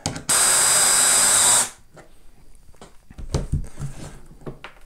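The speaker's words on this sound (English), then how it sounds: "I'm just going to drill my own holes" A power drill whirs loudly for about a second and a half, then stops, followed by quiet tapping and handling sounds.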